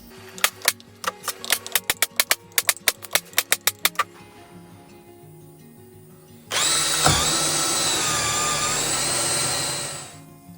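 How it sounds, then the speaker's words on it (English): A threaded metal ferrule is screwed into wood in a workshop, first with a dozen sharp, quick ratcheting clicks, then a loud, steady power-tool whir that holds for several seconds before stopping. "It screws into the wood, and then you can screw a bolt into it."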